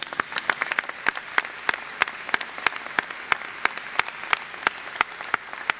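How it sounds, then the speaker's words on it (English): An audience at a University of Minnesota Board of Regents meeting claps in a fairly even, rhythmic pattern, individual sharp claps standing out over a softer crowd wash, moderately loud and without talk. "can we clap for him one more time?"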